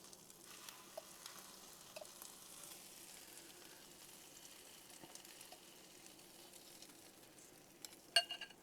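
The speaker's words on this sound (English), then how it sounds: "Now we'll just let these cook on one side for just a little bit." Eggs sizzle in egg rings on a griddle with a faint, steady frying crackle and a few soft clicks and taps near the end.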